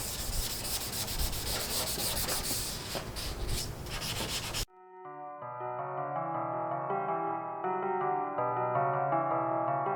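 Wet sanding of a carbon fiber hood with 800 grit sandpaper makes close, steady rubbing strokes that suddenly stop halfway through, replaced by background music.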